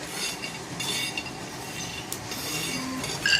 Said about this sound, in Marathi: शेंगदाणे आजी भाजून घेत आहे.